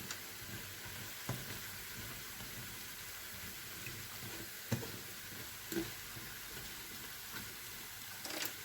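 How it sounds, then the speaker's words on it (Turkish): Steady, soft sizzling of date-shaped semolina dessert dough frying in hot oil, with occasional faint clinks and pops over a constant hiss. "tatlının kızarması çok önemli arkadaşlar. Böyle nar gibi kızartacağız."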